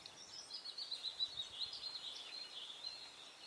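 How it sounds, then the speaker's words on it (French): Faint birdsong in a forest: thin high chirps and warbles repeating steadily over a quiet background, soft and distant, with no voices. "sûrement le chant des oiseaux"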